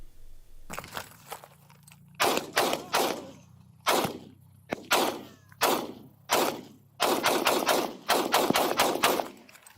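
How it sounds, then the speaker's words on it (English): A police trooper's firearm discharging at the scene of a pursuit ending in a shooting: a rapid volley of loud, sharp gunshots in uneven bursts, several in quick succession and then a dense cluster near the end, close and harsh with no speech. "The trooper immediately transitioned from his taser to his firearm and discharged it"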